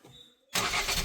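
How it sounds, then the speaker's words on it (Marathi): A vehicle engine cranked by its starter bursts abruptly to life after a near-silent moment, loud and close. "हा स्टार्टर देणार आहे"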